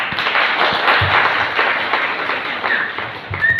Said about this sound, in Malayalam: നമുക്കെല്ലാവർക്കും അദ്ദേഹത്തെ പ്രോത്സാഹനം വേണ്ടി ഒരു ചെറിയ ക്ലാപ്പ് കൊടുക്കാം